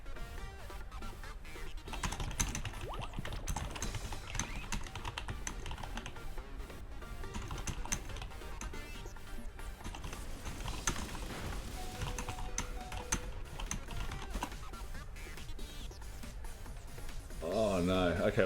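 Rapid clicking keystrokes on a computer keyboard run in quick, uneven bursts close to the microphone, with a person talking over parts of the typing.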